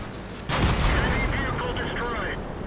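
Artillery fire in the World of Tanks game: one loud, sudden blast hits after a short quiet lead-in, then trails off into a long rumbling decay while someone talks over it.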